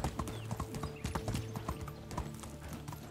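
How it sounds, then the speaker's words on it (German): Horse hooves clip-clop at a steady riding gait in the medieval village-life game Medieval Dynasty, a continuous close rhythmic trot with a faint whinny and light game ambience beneath. "Wir reiten jetzt erst einmal nach Jesarika"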